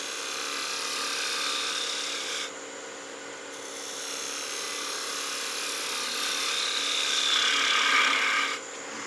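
A skew chisel makes planing cuts on a small gnome Christmas ornament spinning on a wood lathe, giving a steady high rasping hiss over the motor's hum, briefly dropping away twice when the tool lifts off.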